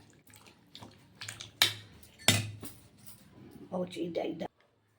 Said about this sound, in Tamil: குக்கரை மூடி விசில் வச்சாச்சு.